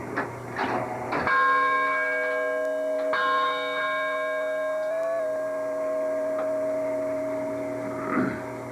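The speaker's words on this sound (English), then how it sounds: "At 12 o'clock, it ought to chime more than once or twice, shouldn't it?" A courthouse clock chimes, with several ringing metallic strikes whose tones hang and decay slowly, close and fairly loud with no talking over them.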